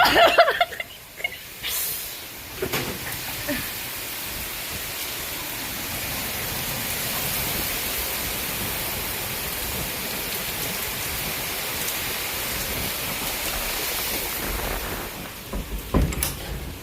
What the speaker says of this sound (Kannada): ಏನಣ್ಣ ಹಿಂಗ್ ಮಳೆ ಹೊಡಿತೈತೆ?